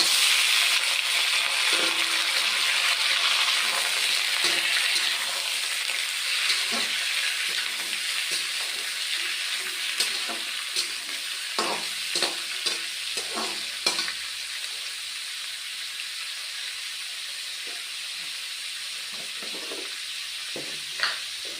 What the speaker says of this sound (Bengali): এখন বন্ধুরা মাংসগুলি দিয়ে দিচ্ছি